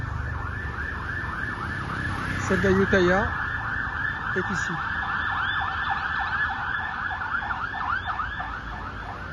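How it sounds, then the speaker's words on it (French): Ambulance siren wailing in a repeating rise-and-fall pattern on a street in Ayutthaya, Thailand, steady and fairly close over traffic rumble, with brief voices in between. "Vous avez en direct le son d'une ambulance."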